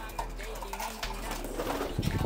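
A pigeon gives short, soft coos close by, with handling noise and a voice nearby.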